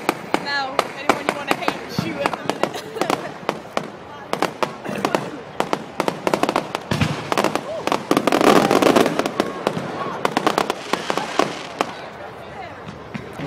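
Fireworks explode for Bonfire Night at Nottingham Recreation Ground. Dense sharp bangs and crackling pops come in quick bursts, building to a thick barrage midway, with crowd noise and talking underneath.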